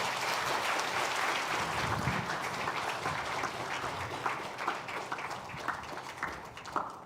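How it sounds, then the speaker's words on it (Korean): A church congregation applauds during a 70th-anniversary Sunday service, steady dense clapping filling the whole stretch at moderate level with no voices over it. "다시 한번 박수 부탁드립니다."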